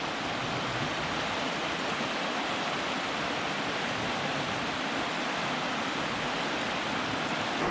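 Steady, dense rush of a waterfall at Fort Richardson State Park during high water, a constant broadband roar with no pauses, close and enveloping throughout.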